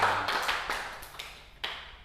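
Handful of scattered claps from a small group of people, a few separate broadband bursts spread over about two seconds, fairly faint and thinning out toward the end.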